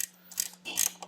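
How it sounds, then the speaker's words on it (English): A ratchet wrench tightens a bolt during a Harley-Davidson Road Glide CVO stereo install, with a few quick clicking ratchet bursts, close and fairly quiet, over a steady low hum. "we can use a wrench, one of these ratchet wrenches, and get it really tight"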